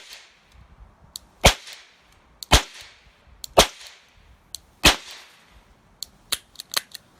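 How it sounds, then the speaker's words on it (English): .22 CB Long rounds fired single action from a Charter Arms Pathfinder revolver at soda cans about 25 feet away, seven or eight sharp, quiet cracks spaced irregularly, the last few coming in quicker succession, with no talking. "these are CB Longs, and again, I'm shooting at soda cans, same about 25 feet"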